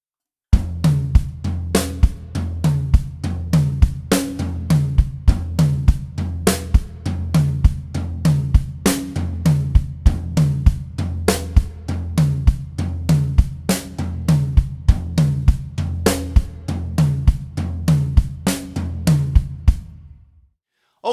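Drum kit played slowly in an advanced tom pattern, right hand on tom 3 and left hand alternating snare and tom 1 with bass drum, steady evenly spaced hits ringing close and loud for about twenty seconds, no talking.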